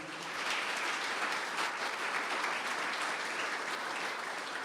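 A church congregation applauds together, a steady wash of many hands clapping that fills the whole stretch evenly at moderate level, with no voices standing out.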